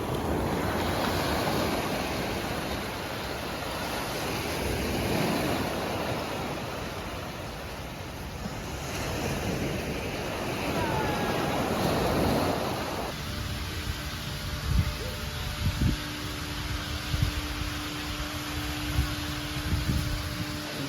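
Sea waves washing onto the shore at Olongapo City, a broad rolling surge rising and falling in slow swells, with wind buffeting the microphone and faint background sounds later.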